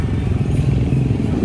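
Low-slung motorcycle engine idling with a steady rumbling throb, close and fairly loud, with no speech.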